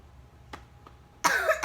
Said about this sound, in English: Did you really wait for me to hit record to cough?